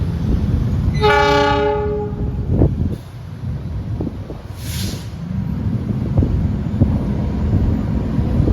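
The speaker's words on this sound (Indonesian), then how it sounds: "ini juga dari arah barat sudah siap masuk kereta lokal juga teman-teman" A local train pulls into an Indonesian station from the west, sounding a loud horn blast near the start over a continuous low rumble of wheels and engine, with a brief hiss of air later on.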